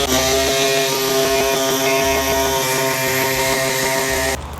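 A small pneumatic air saw with a metal-cutting blade runs steadily and close while cutting metal on a Toyota Land Cruiser, giving a harsh buzzing whine with a droning undertone that stops abruptly near the end.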